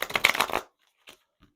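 Large tarot cards being shuffled by hand, one dense riffling burst of flapping card edges lasting about half a second, followed by a couple of faint soft taps in near silence.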